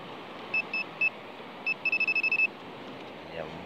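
A metal detector sweeping a deserted beach gives short electronic signal tones, a few spaced beeps and then a quick run of about eight pulses over steady background surf noise.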